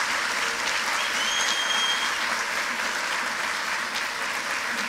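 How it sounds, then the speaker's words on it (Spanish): Steady, dense applause from an audience at a university welcome ceremony for new students, a continuous loud wash of clapping that holds evenly throughout with no talk over it. "Un fuerte aplauso para ti"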